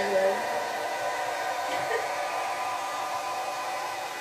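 A blow dryer drying hair runs as a steady, fairly loud whooshing drone with a whiny motor tone throughout, close to the listener.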